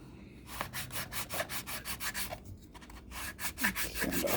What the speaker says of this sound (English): Sand off some of this old glue.